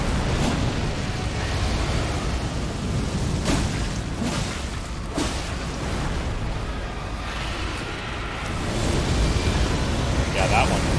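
Ulcerated Tree Spirit unleashing a fiery area attack in Elden Ring's Fringefolk Hero's Grave, a sustained roaring rumble with a few sharp bursts, loud and close.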